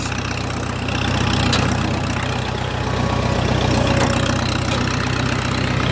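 A 1964 Minneapolis Moline M602 tractor running on LP gas idles steadily at close range, its low, even engine rumble holding without interruption and with no voices.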